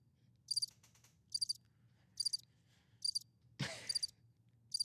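Soundboard cricket chirp effect: short bright chirp bursts repeating in an even rhythm, fairly faint, with one brief noisy thump near the end and no talk.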